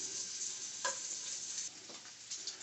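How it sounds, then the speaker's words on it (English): Bacon fries in a pan with a steady, close sizzling hiss, marked by a few brief pops and crackles. "our bacon is just about done. It's going to continue to cook"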